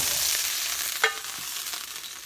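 Fish and vegetables sizzling in a very hot, smoking frying pan, a steady close hiss of frying with a brief clatter as food drops in, no voices.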